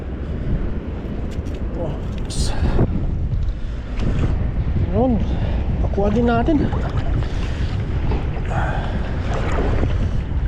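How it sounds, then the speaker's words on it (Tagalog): Strong wind buffets the microphone outdoors near water with a boat, a loud constant rumbling roar throughout while people talk over it. "Oh, lakas ng hangin."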